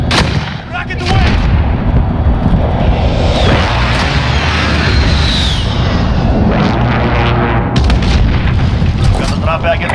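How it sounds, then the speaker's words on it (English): Rocket launch and explosions in the Call of Duty Warzone video game, with loud booming blasts and rumbling fire filling the scene, plus a whooshing streak midway and game voice callouts. "Rocket away!"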